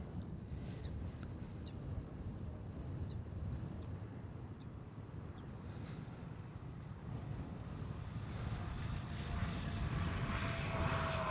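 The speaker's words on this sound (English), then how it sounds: "And here a KLM Cityhopper" A KLM Cityhopper Embraer E175 airliner passes at Amsterdam Schiphol, its steady broadband jet roar building gradually and growing louder toward the end, with light wind noise on the microphone and no talking.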